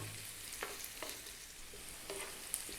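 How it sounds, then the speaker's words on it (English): Chopped onion frying in oil over medium heat in a pan, a soft continuous sizzle with a few light stirring scrapes, faint and alone. "I'm going to start off by dropping in my onion"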